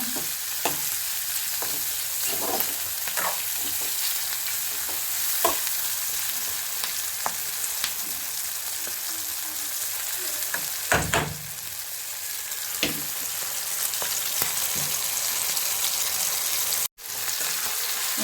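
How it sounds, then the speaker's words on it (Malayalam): Ivy gourd fries in hot oil while being stirred, giving a continuous close sizzle broken by repeated scraping strokes of a spoon against the pan, with no talk. "നന്നായിട്ട് ഇളക്കി കൊടുക്കുക"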